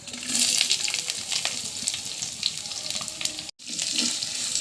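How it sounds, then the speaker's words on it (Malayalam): Chopped onion, green chili, ginger and garlic sautéing in a pan for a sardine curry, a dense hissing sizzle that continues with a brief cut of silence near the end, close and fairly loud, no voices. "ഇനി അതിലേക്ക് നമ്മൾ അരിഞ്ഞു വെച്ചിരിക്കുന്ന നമ്മുടെ സവോള, പച്ചമുളക്, ഇഞ്ചി, വെളുത്തുള്ളി എന്നിവ നമുക്ക് ഇതിലേക്ക് ചേർക്കാം."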